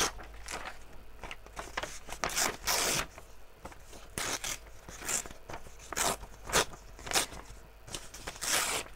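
Paper being torn by hand while working on a collage journal from old wallpaper and fabric design prints, a series of short, close, crisp ripping bursts in an uneven rhythm with small rustles between them.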